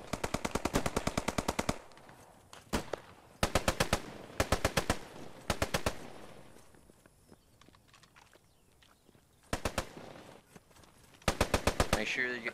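Machine gun fire in the Post Scriptum World War II video game, loud and close, coming in several rapid bursts of evenly spaced shots, each burst about a second long with short gaps between, over quieter background noise.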